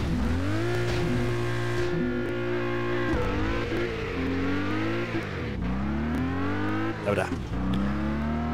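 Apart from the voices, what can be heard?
car wheelspin at race start in video game Test Drive Unlimited 2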